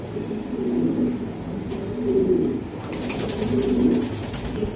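Roman pigeons coo in soft, low repeated phrases, several rounds rising and falling over a quiet background.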